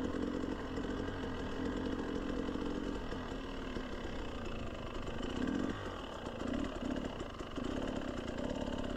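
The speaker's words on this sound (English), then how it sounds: "This looks to be some sort of log processing machine." A log processing machine running outdoors beside a road makes a steady, buzzing engine drone like a chainsaw, holding an even level throughout.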